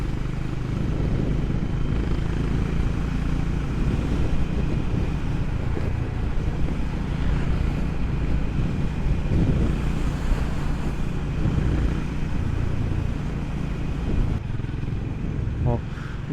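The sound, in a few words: strong cool sea wind blowing near the coast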